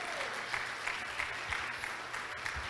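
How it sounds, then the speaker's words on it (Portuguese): Church congregation applauding during a Portuguese-language sermon, a steady mid-level wash of clapping with a few sharper claps standing out, continuous throughout. "Dá um aplauso aí a Jesus"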